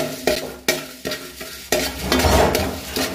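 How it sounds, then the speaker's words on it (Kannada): Coriander seeds, cumin and fenugreek being dry-roasted in a pan for a crab sukka, with sharp scraping stirs of a spoon against the metal, several distinct strokes over a soft steady sizzle. "ನೋಡಿ, ಕೊತ್ತಂಬರಿ ಜೀರಿಗೆ ಮೆಂತೆನ ಹಾಕಿ ಹುರಿತಾಯಿದ್ದೇನೆ."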